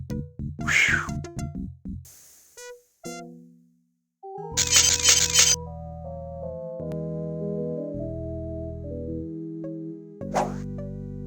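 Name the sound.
cat meowing in video game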